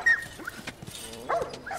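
Dogs from the video game The Last of Us bark and whimper in a brief, moderately faint burst, with a couple of short yips toward the end and no talk over them.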